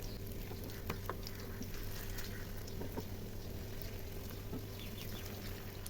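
Jackfruit kebabs fry in hot oil, a steady soft sizzle and bubbling with a few light taps and clicks as the pieces are gently flipped.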